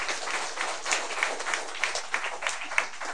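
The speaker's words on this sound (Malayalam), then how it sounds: "കൈയടിച്ച് നമുക്ക് അവരെ സ്വാഗതം ചെയ്യാം" A church congregation at a First Holy Communion service applauding to welcome guests, a dense, steady patter of many hands clapping, moderately loud and sustained, with no voices over it.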